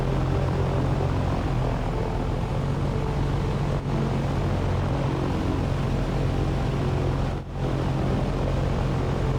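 A PA-25 Comanche propeller engine throttled down to minimum in a flight simulator game, giving a steady, even drone with a low hum that holds throughout, close and unbroken.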